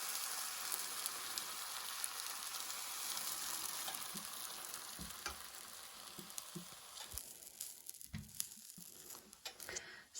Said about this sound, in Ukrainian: Ставлю на плиту другу пательню і далі смажу, як звичайно.